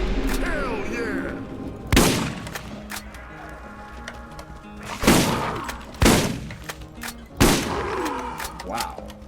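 Gunfire in the Borderlands video game played in VR, several loud, sharp single shots spaced a second or more apart over a busy game backdrop, with a voice talking between them.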